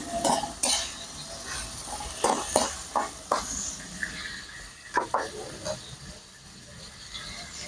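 Fried tilapia goes into a pan of sauce, giving a steady sizzle and hiss with a run of sharp clinks and scrapes from a utensil against the pan, fairly close, with no talk.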